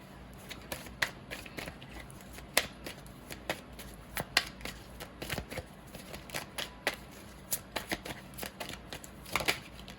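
A deck of Prism Oracle cards is shuffled close by in quick, irregular bursts of crisp flicks and riffles, fairly quiet, with no talking.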